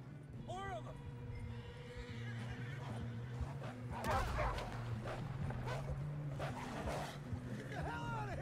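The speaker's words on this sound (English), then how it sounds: "We got more wolves on the left!" Wolves snarling and barking in the video game Red Dead Redemption 2, mixed with horse whinnies and hoofbeats, continuous and fairly loud, with people shouting over it.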